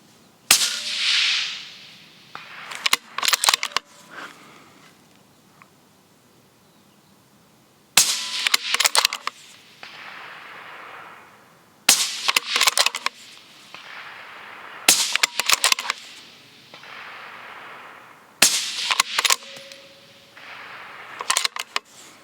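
Sharp rifle shots from a long-barrelled rifle fired at a range, about six cracks spaced several seconds apart, each loud and near with a brief ringing decay, with quiet outdoor background between them.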